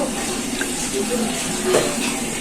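Half a cup of water is poured into a pan of kangkong, a steady splashing, hissing rush that swells slightly near the end, heard close with faint background noise.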